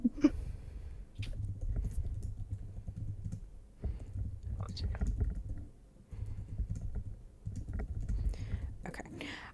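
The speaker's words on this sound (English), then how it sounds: "sorry, I was just typing something out real quick" Clicky computer keyboard typing in quick bursts separated by short pauses, close and fairly soft, with quiet whispering nearby.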